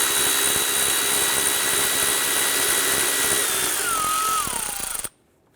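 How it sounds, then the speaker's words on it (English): A power tool spins a 10mm bolt out at the back of a 2001–2005 Honda Civic engine, a loud, continuous close whirring drone whose pitch slides downward near the end before cutting off abruptly into silence. "remove our 10mm bolt in the back here"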